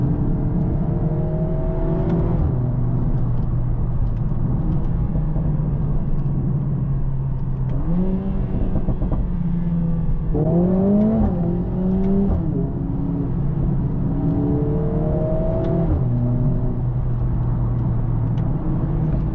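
A 2025 Mercedes-AMG A45S facelift hot hatch with 4MATIC Plus all-wheel drive drives twisty roads, its engine droning steadily from inside the cabin and rising and falling in pitch as it revs through gear changes.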